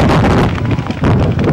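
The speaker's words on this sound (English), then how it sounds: "I think we're having a microburst here. Some very high winds." Strong gusting microburst winds of roughly 50 to 60 mph at an outdoor girls' soccer game, roaring steadily into the microphone as loud, continuous buffeting, with no voices.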